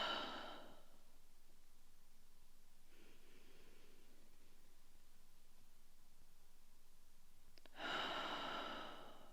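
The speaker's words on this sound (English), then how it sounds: "Soft inhale into that back rib. Nice relax exhale out." A soft, relaxed exhale during a back breathing exercise, heard close and airy, followed after a long near-silent pause by a second, stronger breathy rush, with no talking.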